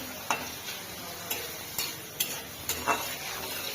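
Garlic frying with turmeric and salt in a village kitchen pan, a soft steady sizzle broken by several sharp scrapes and clinks of a spoon stirring against the metal.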